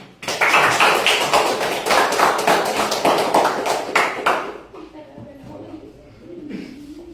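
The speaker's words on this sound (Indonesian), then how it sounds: "Coba kita beri tepuk tangan" Children in an Indonesian classroom clap in a quick, regular rhythm of sharp, near claps for about four and a half seconds, then stop abruptly, leaving faint murmuring and room noise.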